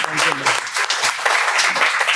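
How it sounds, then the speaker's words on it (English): An audience at a talk with an ambassador breaks into loud, dense applause that fills the room, with a voice speaking briefly over it. "I think we owe him a big round of applause."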